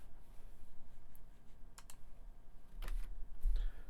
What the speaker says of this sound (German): Wir drücken die Taste F3.